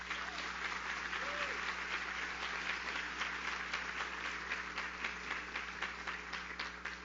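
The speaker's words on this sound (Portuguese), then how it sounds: "para quem eu peço uma salva de palmas" An audience at a civil law congress in Brazil applauds a professor, steady even clapping from a seated crowd, moderately distant with a faint low hum beneath.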